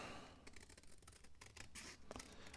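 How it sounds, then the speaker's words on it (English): Scissors snip and trim paper for a junk journal page, a quiet run of close, crisp cuts in an uneven rhythm, with no talking. "I can grab my scissors and straighten it up"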